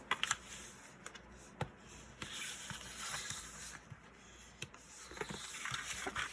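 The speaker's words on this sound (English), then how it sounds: "And I'm gonna go ahead and fold and burnish on my score lines." Paper being folded and burnished along score lines for a handmade graduation book, heard as close, quiet scraping and rubbing strokes with soft taps and sliding hiss, repeated in short bursts.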